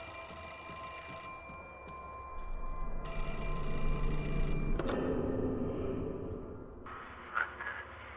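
Telephone ringing in the survival horror game Fatal Frame: Mask of the Lunar Eclipse, a bright electronic ring heard in repeated bursts over eerie ambient game sound, with a brief stretch of talk partway through.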